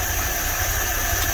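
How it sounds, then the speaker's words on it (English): A Dodge Tradesman B200 van's engine idles low and steadily, a continuous rough, droning rumble with faint knocking, heard close with no talk over it. "It's idling real low"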